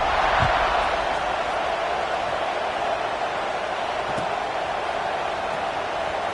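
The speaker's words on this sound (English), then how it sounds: "this crowd is buzzing after that last score." A college football stadium crowd after a score, a broad, steady roar of massed voices that fills the whole stretch with no clear breaks, loud and distant-sounding.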